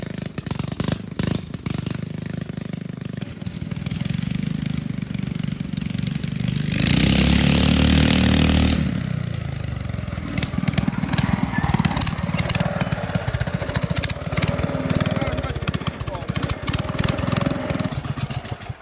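Engine of a vehicle with badly wobbling wheels, suspected of running on bad gas: a loud, continuous rough mid-pitched drone that swells to a stronger surge in the middle before settling back to an uneven chug.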